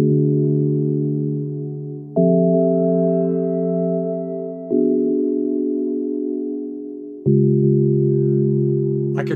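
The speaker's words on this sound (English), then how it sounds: "that sort of altered serialism chord progression that I got loosely based on this tone row sounds like this" Four sustained keyboard chords in an altered serialism progression built loosely on a tone row, each struck cleanly and held for about two seconds before the next, resonant and alone without any talking.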